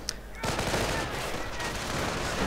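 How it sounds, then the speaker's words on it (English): Rifle and automatic gunfire in a WWII strategy game battle, with BAR fire and recoilless rifles, a rapid crackling burst of shots that starts abruptly and keeps going loud, with no speech. "BARs blazing, recoilless rifles flying. Well, the rounds are flying"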